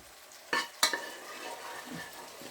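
Chicken fries in oil in a pan for chili chicken, giving a steady close sizzle with two sharp stirring scrapes early on.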